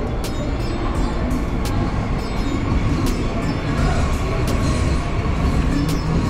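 Trains at Bandra railway station in Mumbai, a loud continuous rumble of rolling wagons with rhythmic wheel clatter and occasional squeal, steady and close throughout.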